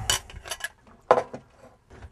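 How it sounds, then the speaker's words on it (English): A utensil clinks and taps against a bowl a few times while breaking egg yolks, close and fairly loud, aboard a small sailboat. "And then I just break the yolk."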